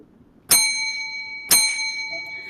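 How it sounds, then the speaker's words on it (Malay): A debate timing bell at a friendly university debate strikes two clear, ringing dings about a second apart, each with a long sustained metallic tone over a quiet room. "loceng akan dibunyikan sekali menandakan masa telah tamat untuk pihak lawan membuat izin laluan"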